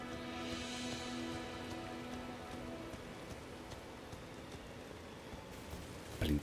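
Steady rain falls in Elden Ring, a dense, even hiss that holds throughout with no talk, ending in a brief louder thump.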